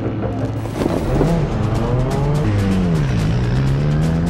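Small racing cars start a head-to-head race on a track, their motors whining loudly and rising and falling in pitch with a faint tire scrub. The sound is close and continuous.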